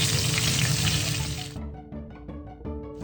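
Fried potatoes and eggplant tipped into a pan for hilsa curry, a loud rushing sizzle that cuts off abruptly into quieter crackling and a few light knocks.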